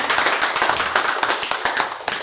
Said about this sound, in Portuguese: Você está convidado a nos trazer uma salva de palmas para ele.